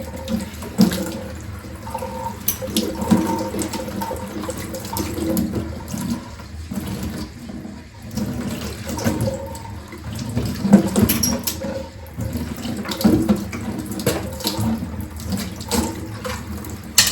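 Water runs from the tap of an RO water filter in a village home, a continuous splashing flow with gurgles and shifting intensity, fairly close and with no talk.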